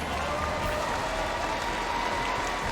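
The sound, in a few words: audience applause at esports event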